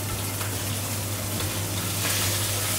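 Trout fries in a pan with a steady, crackling sizzle and a low hum underneath, continuous and close, with no talking.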